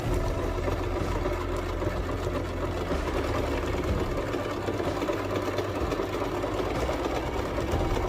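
A sewing machine runs steadily, stitching around the edge of a fabric holiday plate mat, with a continuous close motor drone and rapid needle chatter throughout and no talking.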